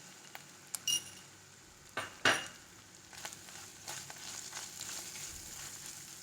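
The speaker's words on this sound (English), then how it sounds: "Haldi powder, whenever we are putting, we should put it in low flame so that let the haldi get fried nicely." Turmeric powder fries in a pan on low flame for a coconut milk bhindi dish, a faint soft sizzle broken by a few clinks of utensils against the pan.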